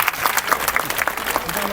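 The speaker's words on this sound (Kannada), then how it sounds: "ಜೋರ ಚಪ್ಪಾಳೆ ಹೊಡಿರಿ" Audience applause at a Haridasa devotional program honoring Purandara Dasa in a Bengaluru math hall, a dense, steady patter of many hands clapping at moderate loudness with a murmuring crowd beneath.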